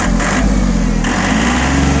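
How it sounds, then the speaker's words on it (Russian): An ISEKI TA317 Japanese 32-horsepower tractor engine idles close by, a loud, even, steady mechanical hum without variation, running alone. "Вот такая работа мотора."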